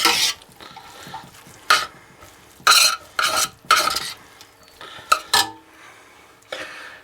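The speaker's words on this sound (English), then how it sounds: "Mix in the peas." Cooked rice being stirred as peas are mixed in, with several separate scraping and clattering bursts from a spoon against the pot, clear and close with short quiet gaps between them.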